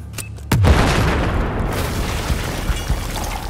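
Grenade explosion in the Battlefield 4 video game campaign, a single loud deep boom that rolls into a long rumbling, crackling tail.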